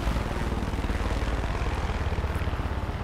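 A helicopter in the video game Far Cry 5 drones steadily and loudly with a rapid, pulsing rotor beat throughout, close and unbroken.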